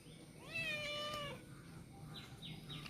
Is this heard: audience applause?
no